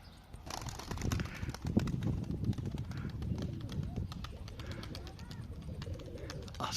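A tired pigeon keeps moving about, with soft cooing and fluttering close by over a steady background bustle, while a person talks now and then.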